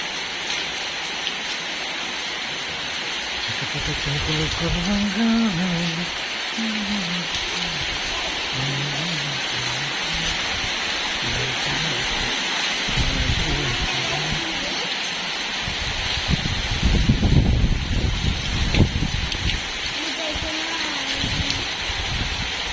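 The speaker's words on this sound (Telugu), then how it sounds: "నైట్ అయ్యింది, వర్షం అయితే చాలా ఎక్కువనే కొడుతుంది ఇప్పుడు." Heavy rain pours steadily at night in a village, a dense continuous hiss with drops pattering on surfaces, swelling louder near the end; faint low rumbles and indistinct sounds sit beneath the downpour.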